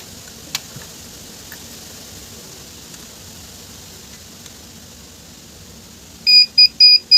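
Quiet background hiss and a few faint ticks, then four short electronic beeps from a multimeter checking 12 volts on a camera DVR board near the end, sharp and fairly loud, in quick succession.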